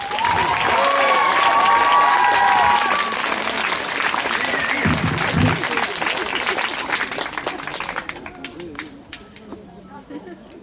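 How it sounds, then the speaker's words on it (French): An audience claps loudly for several seconds, with a few voices mixed in, before the clapping thins out to scattered claps. "On applaudit bien fort les musiciens."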